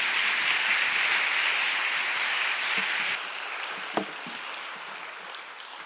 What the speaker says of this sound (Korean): 교수님 박수로 한번 같이 맞이하시겠습니다